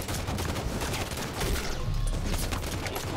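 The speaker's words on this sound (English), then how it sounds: "That's why you don't use an assault rifle" Close, loud Halo 5 assault rifle fire chatters in dense rapid bursts, with the shooting continuing almost without pause alongside other battle noise.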